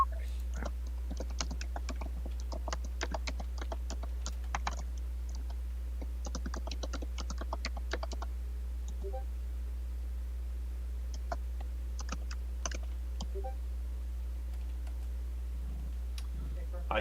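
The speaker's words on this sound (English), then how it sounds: "I hear some rage typing in the background" Someone types on a computer keyboard in the background, bursts of rapid, faint clicks over a steady low hum, thinning out mid-way before a few more scattered keystrokes.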